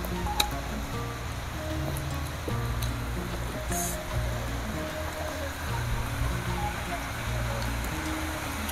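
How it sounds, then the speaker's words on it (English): Heavy rain falls in a steady, dense hiss that stays loud and even throughout, with a few faint clatters mixed in. "The rain is so strong."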